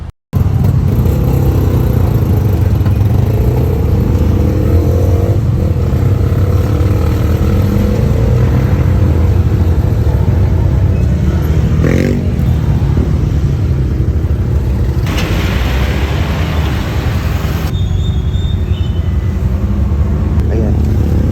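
Riding inside a motorized tricycle in the Philippines, a constant mid-pitched engine drone and road rumble fill the whole ride, with voices talking over the motor at times.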